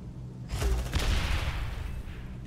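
Gunfire during combat in the video game Aliens: Dark Descent, a short burst of rapid automatic shots that swells suddenly and holds loud for about two seconds.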